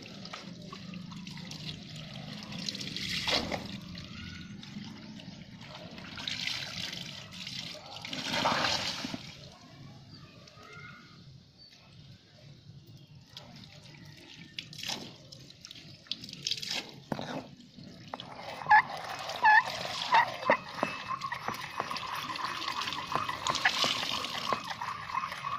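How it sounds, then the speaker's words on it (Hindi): Water is carefully poured while cleaning mercury, giving soft intermittent trickles and splashes over a hushed background, with a brief louder pouring burst near the end. "बड़ी एहतियात से पानी गिराते चले जाएं"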